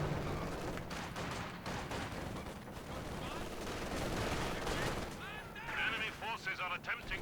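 Gunfire from a 222 armored car raking the ground in a World War II strategy game, dense repeated shots and blasts running throughout under steady commentator talk, with a brief livelier burst near the end.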